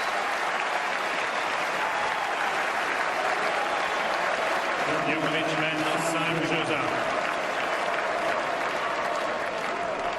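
Crowd at the Roland Garros 2016 men's final between Djokovic and Murray applauding and cheering steadily for the whole stretch, dense and continuous, with a swell of voices near the middle.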